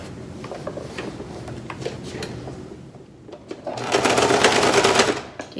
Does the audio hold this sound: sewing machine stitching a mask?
yes